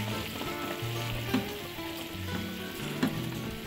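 Gram flour mixture is stirred into onion curry for hotel-style poori curry, with a steady frying sizzle and spoon scrapes and a couple of sharper clinks against the pan, no voices.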